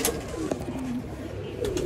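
Pigeons coo softly and repeatedly close by over a steady background rumble.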